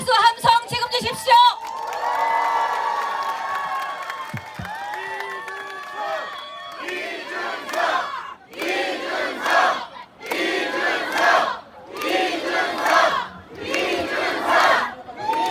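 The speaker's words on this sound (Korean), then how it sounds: "큰 박수와 함성 지금 주십시오." Large outdoor campaign-rally crowd at Dongtan Lake Park roaring and cheering in repeated loud surging waves after a voice over the PA system.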